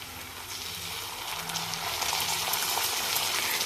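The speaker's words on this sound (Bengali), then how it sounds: "পেঁয়াজগুলো ভাজা হয়ে গেছে, এবার মশলাটা দিয়ে দিব।" Spices tipped into a pan of fried onions for a spicy red mutton curry, setting off a loud, rising sizzle of hot oil that grows denser and brighter over a few seconds, with no talk.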